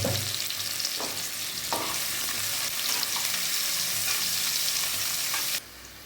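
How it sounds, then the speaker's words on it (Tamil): Ingredients for mushroom biryani, seasoned with a little salt, sizzle in a hot pan as they brown, with a steady crackling fry broken by a few scraping stirs. The sizzle drops to a quieter hiss near the end. "இப்போ இதில் கொஞ்சமாக சால்ட்டு சேர்த்துட்டு நல்லா ப்ரௌன் கலராக நல்லா வதக்கி எடுத்துக்கலாம்"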